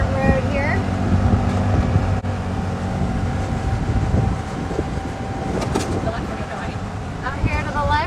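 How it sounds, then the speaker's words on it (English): A golf cart drives along a dirt road on a farm, with a steady motor whine and rattling bumps under continuous nearby talking and some wind. "We're in the golf cart."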